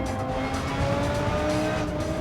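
A race car in Gran Turismo 7 drifting through a turn, the engine droning steadily with a rising tone while the tyres squeal and hiss, held loud and close for a couple of seconds with no talking.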